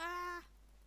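A single short cat meow from a Minecraft Hunger Games match, clear and fairly close, lasting under half a second and standing alone before quiet background hiss.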